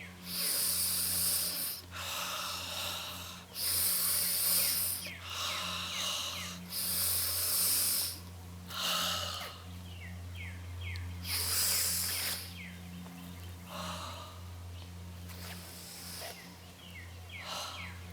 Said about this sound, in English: when you're facing a direction, you breathe in 3 times